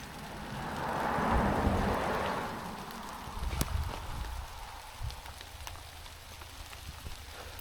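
Big raindrops fall during a stormy tornado chase near Bideford, UK, a steady, fairly faint patter and hiss with a few sharper drop hits and some gusty rumble.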